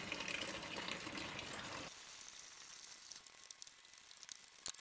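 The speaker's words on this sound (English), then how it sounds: "Turn that tap." Water gushes from a tap into a brewing vessel full of malt for an amber ale, a loud steady rush that cuts off abruptly partway through, leaving faint drips and trickles.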